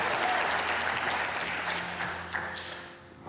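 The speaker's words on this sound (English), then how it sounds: "how about a big round of applause for Ray and Logan?" An audience gives a big round of applause for Ray and Logan, dense steady clapping from a crowd that fills the room and slowly thins out toward the end.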